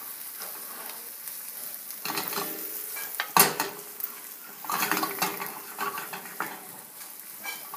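Onions sauté in a hot pan for carbonara, sizzling under uneven bursts of stirring and a sharp clink of a utensil against the pan partway through. No one speaks.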